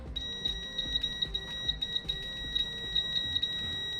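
An ANENG M118A multimeter's continuity beeper, tested with Probe Master probes, gives a steady high-pitched electronic tone that holds for several seconds, loud and close, while faint clicking taps sound beneath it.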